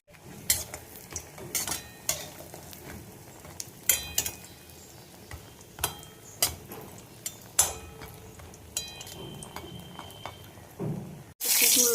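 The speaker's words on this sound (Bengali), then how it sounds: "কিছু বড়ি ভেজে নিচ্ছি" Bori, Bengali lentil dumplings, crackling and frying in a pan, with scattered sharp clinks and scrapes of a utensil against the metal over a low steady sizzle, close and moderately loud.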